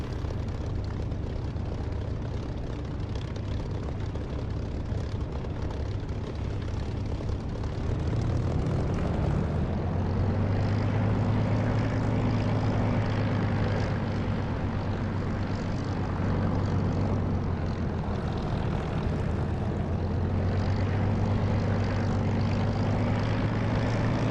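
A Spitfire's piston engine in the DCS flight simulator roars steadily and loudly for the whole stretch, its tone deepening and swelling partway through as power comes up for takeoff on the runway.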